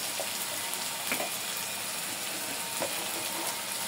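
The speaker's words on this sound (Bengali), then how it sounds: "মশলাটা একটু কষায় নিতে হবে ভালোভাবে।" A masala of ground cumin and coriander paste with turmeric and chili powder fries in a pan, giving a steady, close sizzle with faint crackles throughout.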